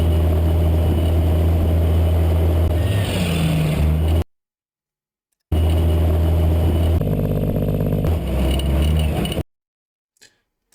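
A Beier USM-RC-3 RC sound module plays a simulated Detroit diesel engine: a loud, steady drone whose pitch and texture shift during gear changes, then cuts to silence and returns before stopping again.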